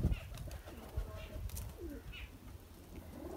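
A border Teddy pigeon coos softly in a few short, low calls, with faint background noise and occasional rustling.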